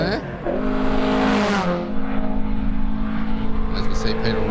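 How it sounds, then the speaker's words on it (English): A 1600 Datsun race car takes the hairpin at a lakeside hillclimb, its engine revving hard then easing off as it rounds the bend, loud and close, with a commentator speaking over it. "As we see Peter Rogers now make his way around the hairpin in the 1600 Datsun"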